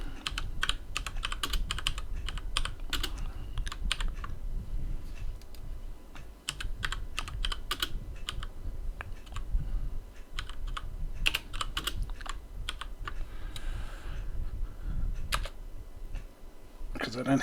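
Rapid, continuous typing on a computer keyboard while editing a server configuration ini file in nano, clicky keystrokes close and steady throughout with brief pauses.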